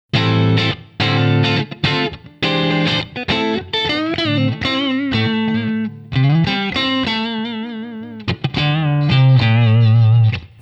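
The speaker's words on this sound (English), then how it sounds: "that's a very clean, very mellow sounding Strat tone" A clean, mellow Stratocaster tone through a Line 6 Helix with room reverb, played as loud, close phrases of chords and single notes alone without talk.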